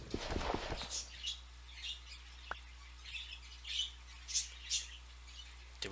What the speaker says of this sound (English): sorry for the birds